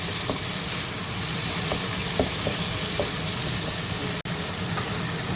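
A yogurt-based curry base for karahi cauliflower fries in a pan, giving a steady, close sizzle with a few light stirring taps and no voices.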